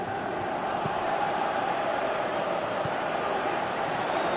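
Crowd noise rolls on in the PES 2018 football video game, a steady dense stadium murmur that holds level and fairly loud from start to finish, without clear peaks.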